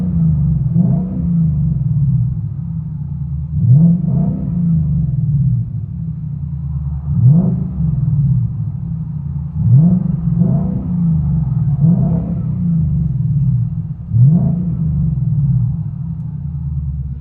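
Ford Mustang GT with an aftermarket exhaust and X-pipes, heard from inside the cabin: a low, deep rumble with periodic swells as the engine is revved in short blips several seconds apart, no talking.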